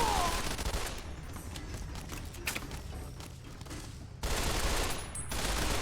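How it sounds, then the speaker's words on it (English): Gunfire in the game Fallout: New Vegas, dense bursts of shots rattling in a rapid fusillade that drops briefly then resumes, loud and continuous. "Who is shooting me?"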